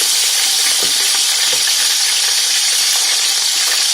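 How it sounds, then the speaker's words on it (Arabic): A marinade for crab hits a hot pan and sizzles loudly and steadily, a dense close frying hiss with faint stirring clicks and no talking. "دلوقتي يا جماعة احنا هننزل بالتتبيلة بتاعتنا"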